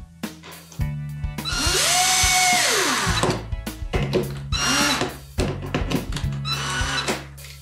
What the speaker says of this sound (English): Let's go ahead and screw our screws in here.